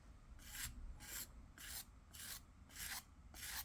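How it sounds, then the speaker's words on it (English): A metal scraper rasps across the surface of a clay pinch pot sphere in six quick, separate strokes, close and crisp, with short pauses between them. "use your metal scraper"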